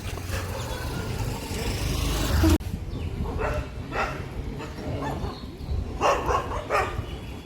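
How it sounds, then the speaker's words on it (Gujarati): A dog barks and yips several times nearby in a rural outdoor setting, short bursts over steady background noise. "જો ડોગી આવ્યું."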